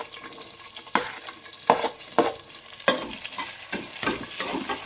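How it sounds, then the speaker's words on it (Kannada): Onions fry in a pan for soya pulao, with a soft constant sizzle under several distinct scraping strokes from a spatula stirring them, each stroke briefly louder. "ಈರುಳ್ಳಿ ಸ್ವಲ್ಪ ಫ್ರೈ ಆಗಬೇಕು."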